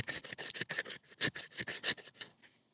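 A knife edge scrapes along a stick of wood to raise fine shavings, about a dozen quick rasping strokes in a steady rhythm, close and crisp, fading out at the end with no talking.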